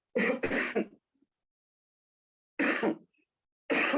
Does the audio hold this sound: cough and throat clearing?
yes